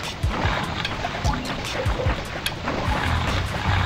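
A waterfall in the video game Rayman 3 gives off rushing, splashing water, with uneven gushes and small bursts rising over a continuous flow for several seconds.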